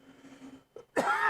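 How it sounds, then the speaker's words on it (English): A single short cough, preceded by a faint breathy throat sound, bursting out loudly and close to the microphone and lasting under half a second. "you guys are just gonna have to deal with that dumb cough"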